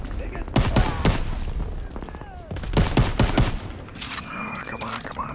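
Bursts of rapid gunfire from a Call of Duty WWII D-Day battle, loud and repeated in clusters, with booming shots over a busy game soundscape.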